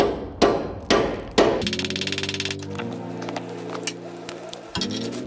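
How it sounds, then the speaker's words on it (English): Three loud metal hammer blows ring out close by on an exhaust part of a Toyota MR2 Roadster (Spyder) during pre-cat removal, followed by a rattling, resonant metallic clatter and humming drone. "Let's give it a wee hammer."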